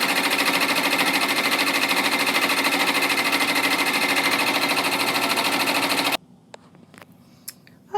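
An embroidery machine stitches a felt bow design, running with a fast, steady, loud mechanical chatter for about six seconds before stopping abruptly, leaving faint clicks and room noise.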